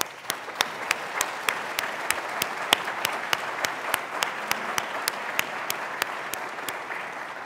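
An audience at a university state-of-the-address claps steadily, a sparse, fairly distant patter of hands with a few sharper individual claps standing out.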